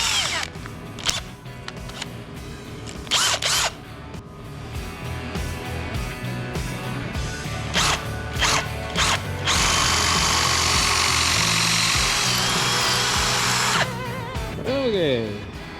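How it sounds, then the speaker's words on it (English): Power drill running a 5/16 bit into a 5/32 pilot hole while installing an Oliver 1365 tractor hub, heard as several short bursts followed by a long steady whine, fairly close, with talk at times. "we got a pilot hole drilled there with our 5/32. Now we'll go back in with our"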